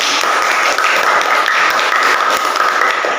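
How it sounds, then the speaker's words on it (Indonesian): A classroom group applauds students who acted in a sociodrama, a steady, dense patter of many hands clapping close by for a few seconds without talk. "Kita beri tepuk tangan."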